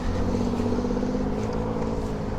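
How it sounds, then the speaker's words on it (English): A city bus fitted with snow chains rolls past on a snowy street, its engine a loud steady rumble close by, with a continuous rattling churn from the chained tires. "These buses have got chains on them."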